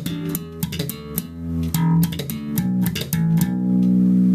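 A slap bass groove with muted rake triplets: percussive thumb slaps and popped notes in a syncopated rhythm, with quick muted string rakes between them, close and loud with no talk.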